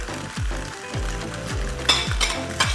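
Vegetables are added to a sizzling pan of spaghetti sauce and stirred, with steady frying hiss, utensil clinks and scraping against the pan, close and fairly loud.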